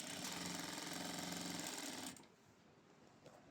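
A GS90 sewing machine runs at medium speed with a dense, even mechanical whir for about two seconds, then stops abruptly, leaving a quiet room tone with a faint click near the end.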